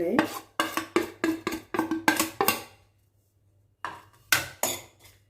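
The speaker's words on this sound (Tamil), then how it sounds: "இது நல்லா சூடு பறக்க வறுத்து எடுத்துக்கலாம்" Moringa leaves being dry-roasted in a pan give a run of quick, sharp scraping and clattering strokes, then a pause before a few more loud strokes, close up.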